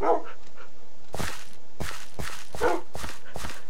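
Several dogs barking in the Minecraft video game, a series of sharp repeated barks in irregular bursts, fairly loud and close, with faint game noises between them.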